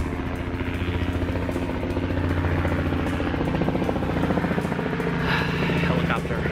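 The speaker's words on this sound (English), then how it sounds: "Helicopter." A helicopter passes over a residential neighborhood, its rotor thumping in a steady, fairly loud pulse with an engine drone that holds throughout and swells slightly toward the end.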